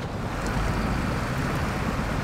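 A heavy International Paystar truck in SnowRunner grinds steadily through deep muck and water, its engine drone and churning slosh forming one continuous, loud wash with no breaks.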